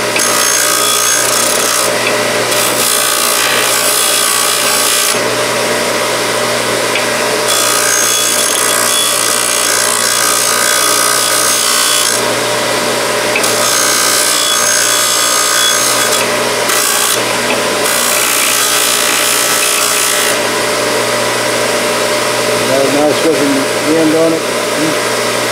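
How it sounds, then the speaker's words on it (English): A Scotch-Brite abrasive wheel deburrs sheet metal at a workbench, a loud steady grinding whir that runs throughout with brief rubbing changes as the piece is worked, and someone talks now and then over it. "Looks like those scotch brite wheels that I got at the auction do a good job of deburring."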